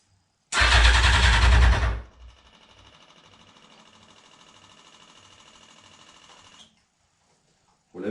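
Yamaha R1 streetfighter motorcycle cranks and catches with a loud, rough burst for about a second and a half, then settles into a quieter steady idle before cutting off, with another brief loud blip at the very end.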